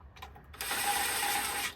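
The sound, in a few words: ratchet tightening bolts on Ford F250 transmission pan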